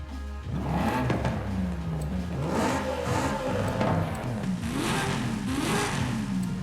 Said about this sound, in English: And I think we've heard enough of the stock engine.